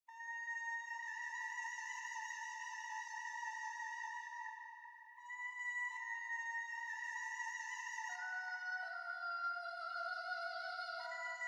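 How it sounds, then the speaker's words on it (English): A synthesized choir lead melody from a Scream choir preset plays alone, smooth sustained vocal-like tones that step between notes with a short dip midway, clean and moderately loud. "But I used the Scream preset, it's a re-choir."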